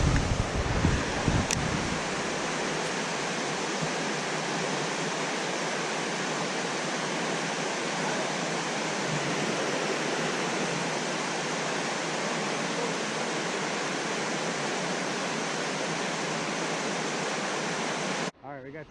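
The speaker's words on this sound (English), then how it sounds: "The water's flowing like a beast now." Fast water rushes in a loud, unbroken roar for a long stretch, cutting off abruptly at the end.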